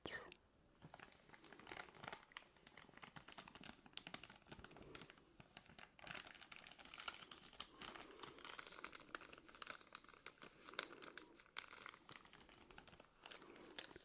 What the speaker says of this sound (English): It's such a gentle crinkle sound.